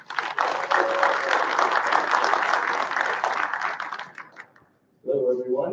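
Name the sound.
audience applause at a conference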